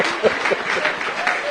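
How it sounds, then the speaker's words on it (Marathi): Audience at a stage interview event applauding Shantanu Naidu, a short, moderately loud patter of clapping heard from within the crowd. "जोरदार टाळ्या होऊ द्या त्याच्यासाठी."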